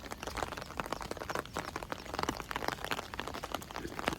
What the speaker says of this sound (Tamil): மழை விழுது